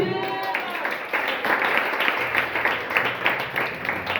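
A church congregation applauding and cheering during a French-language sermon, a rolling wash of clapping and crowd noise with rhythmic surges, moderately loud and sustained under a voice.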